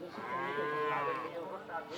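A calf bellows in a drawn-out, tonal moo lasting about two seconds at a Bogura cattle market, loud and close with faint background murmur.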